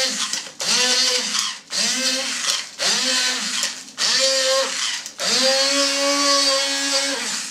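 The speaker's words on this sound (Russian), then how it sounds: "Сейчас вся кухня будет в этом блендере." A cheap Auchan blender chops sauce ingredients with sugar, whirring loudly in four bursts that rise and fall in pitch as the motor strains, with brief pauses between them and a longer final run.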